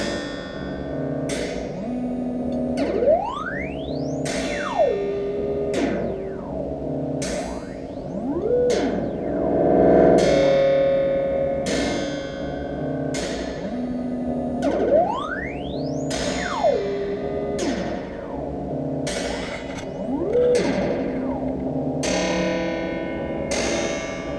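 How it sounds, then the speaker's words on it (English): A synth pluck patch runs through a metallic-sounding echo delay, producing repeated sharp plucked hits, ringing echoes and sweeping pitch glides that loop in a steady rhythmic pattern, loud and alone. "Now it's going through the echo delay, which is a very metallic sound"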